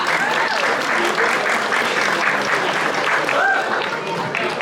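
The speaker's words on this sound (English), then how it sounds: "Let's give him a round of applause" A crowd at a comic convention applauds the Fort Myers mayor, steady dense clapping filling the whole stretch at moderate loudness, with no voice standing out.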